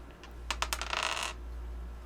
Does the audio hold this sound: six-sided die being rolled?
yes